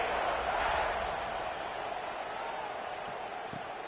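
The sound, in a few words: stadium crowd buzzing after a touchdown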